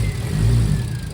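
A Toyota 2JZ engine in a car revs briefly from idle, a loud, close, rising mechanical drone lasting about a second with no talk over it.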